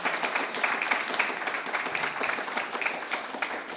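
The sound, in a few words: audience applause for the panel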